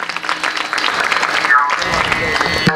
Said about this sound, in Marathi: टाळी वाजवा सर्वांनी जोरदार